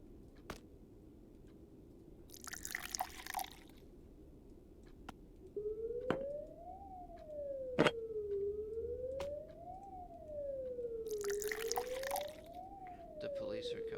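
A police siren in the video game Creature Lab wails in a slow, rising and falling pattern that starts partway through and keeps going. Sharp clicks, a loud thud and two bursts of bubbling liquid sound over a low hum.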